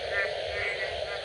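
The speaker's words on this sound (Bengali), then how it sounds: "ব্যাঙের ডাক এবং ঝিঝি পোকার ডাক বেড়ে চলছে আমাদের গ্রামে।" Frogs croaking and crickets chirping in a village at night: a brief, steady wash of trilling insect and frog calls, dense and continuous at moderate loudness.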